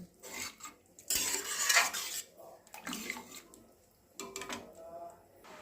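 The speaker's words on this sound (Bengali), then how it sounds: "আমি মিশিয়ে দিচ্ছি, ফুটে গেলেই আমার এই টকটা রেডি হয়ে যাবে।" A pot being stirred while jaggery is mixed into a radish chutney, with scraping, clinking bursts of spoon against metal in short spells separated by quieter gaps, close and moderately loud.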